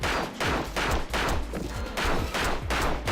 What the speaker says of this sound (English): needle gun